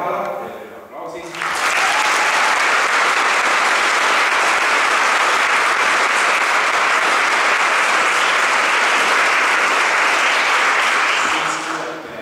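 An audience at a 2015 charity concert in Tõrva breaks into loud, sustained applause that runs steadily for about ten seconds, preceded by a moment of talk and tapering off at the end.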